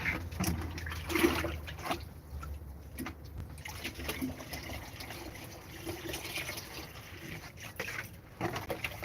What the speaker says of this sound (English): this is my jug that I use to water all my crops